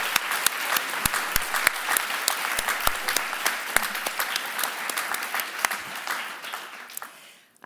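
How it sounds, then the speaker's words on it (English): Sustained audience applause at an alliance annual meeting, dense steady clapping across the hall with a few sharper claps, fading out near the end. "I suggest a round of applause."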